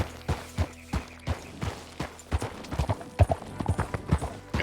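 Horse hooves clip-clop in an uneven walking rhythm on hard ground as a rider travels in a video game, each strike distinct and moderately close, with a faint background bed and no talking.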